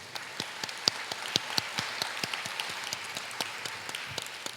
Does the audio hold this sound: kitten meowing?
no